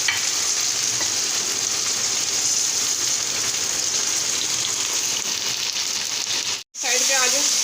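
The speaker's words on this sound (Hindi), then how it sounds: "थोड़ी सी मिर्चें फ्राई हो जाए" Green chilies fry in a pan with a steady, loud, close sizzle that runs without a break, then cuts out briefly near the end before someone speaks.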